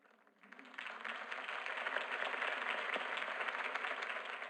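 Crowd applause from Batman: The Telltale Series swells in after a brief quiet start, then holds as a thick, even wash of many clapping hands at moderate loudness for several seconds.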